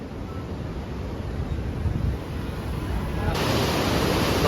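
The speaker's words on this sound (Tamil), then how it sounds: "இப்போ பாருங்க தண்ணியோட சவுண்டை மட்டும் கேளுங்க" River water flowing out from Mettur Dam, a broad steady roar of rushing water mixed with wind noise on the microphone, loud and continuous, growing slightly stronger toward the end.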